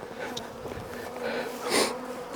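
Honey bees buzz steadily around beehives, a close, continuous droning hum with individual insects swelling louder as they fly past, and no voices.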